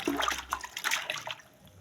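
Water splashing and trickling as spaghetti is rinsed in a pot, irregular close-up sloshes and dribbles over about two seconds.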